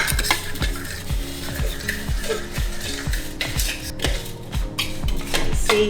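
Breadcrumbs are stirred together with butter in a bowl, giving close, steady, rhythmic scraping strokes that repeat without pause, with no talking.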